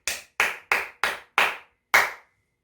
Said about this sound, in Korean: 오늘 이 말씀을 주신 우리 아버지 하나님께 우리의 어린 양 예수님에게 우리 감사의 박수 드립시다.